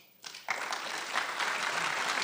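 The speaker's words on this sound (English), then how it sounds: "I want you to thank the members of this first panel with a round of applause" An audience at a circular economy conference on plastics breaks into applause for a panel, the clapping starting abruptly after a brief pause and continuing as a dense, even roar.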